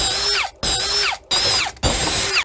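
A GTM DS18/50BL brushless 18 V cordless drill runs in three loud bursts with short pauses between them, its whine rising and falling as it spins up and winds down.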